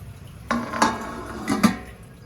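A lid set onto a pot of steaming vadi, a couple of close metallic clinks and a rattling settle, then quiet.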